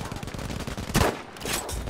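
Battle-royale style video game combat heard through a HyperX Cloud Alpha S gaming headset: rapid bursts of gunfire and a heavier blast, fairly quiet and muffled overall, with a voice faintly underneath.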